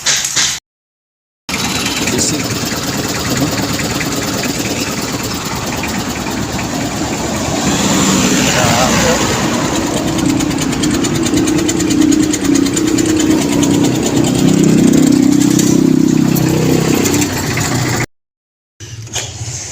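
A Mitsubishi L300 van engine idles steadily and fairly loud, a continuous rough low rumble with a slight knocking texture that swells a little in the second half before cutting off.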